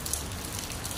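Steady rain falls in Bicol, a soft, even hiss of drops that continues throughout without a break and with no voices.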